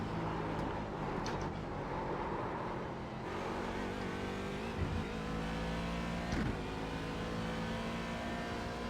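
A Daytona prototype race car engine in the iRacing simulator hums steadily with shifting tonal pitch and occasional higher revs, fairly quiet and sustained with no talking.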